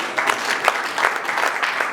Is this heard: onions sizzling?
no